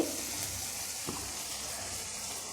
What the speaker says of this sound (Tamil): நம்ம வந்து பாவக்காவை வந்து போட்டுக்குவோம் பார்த்திங்கன்னா அந்த நல்லா வதங்கிருச்சு